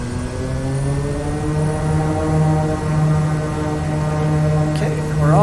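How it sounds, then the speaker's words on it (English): A Kodiak 100 turboprop in Microsoft Flight Simulator takes off, its engine a steady, loud, close droning whine that holds constant as the aircraft rolls down the runway. "Okay, and we're off. Airspeed's alive. We're gonna take off."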